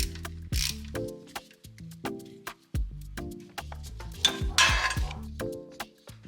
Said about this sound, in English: you'll first use your 1/4 inch extension to remove this little round metal plate